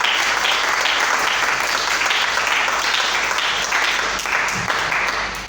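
A church congregation in Brazzaville, Congo, applauding during a service: dense, sustained clapping from many hands filling the room at a steady level throughout.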